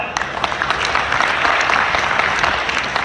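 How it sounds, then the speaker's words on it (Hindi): Audience applause at a poetry recital during a Ganeshotsav celebration in Greater Noida, a close, steady crowd clapping that holds evenly throughout. "बहुत अच्छी तालियां बजाएं"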